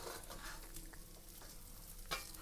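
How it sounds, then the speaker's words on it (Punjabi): An ingredient for flaxseed laddu roasts briefly in a hot pan, a soft continuous sizzle and crackle with light stirring scrapes, heard up close and steady throughout without talk. "ਉਸੇ ਤਰੀਕੇ ਇਹਨੂੰ ਵੀ ਅਸੀਂ 3-4 ਸੈਕਿੰਡ ਰੋਸਟ ਕਰਕੇ ਤੇ ਬਾਹਰ ਕੱਢ ਲੈਣਾ ਹੈ"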